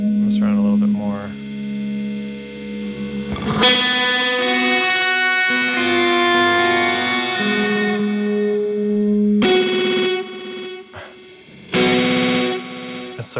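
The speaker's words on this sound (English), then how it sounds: "that's when it starts to repeat more like a delay pedal" Electric guitar run through effects with distortion and chorus, notes ringing and repeating like a delay pedal; dense sustained tones with swells and sharp re-attacks, loud and continuous with no talking.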